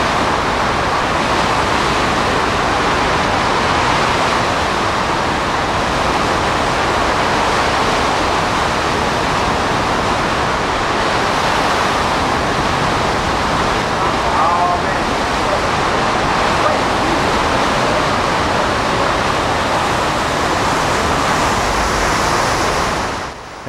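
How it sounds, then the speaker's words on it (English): Hurricane Katrina's wind drives storm surge water in a constant, loud, dense roar of wind and surging water that holds steady with no letup before cutting off at the end. "As the wind shifted more southerly, it really started pushing the water up towards the Coliseum."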